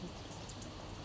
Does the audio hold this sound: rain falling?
yes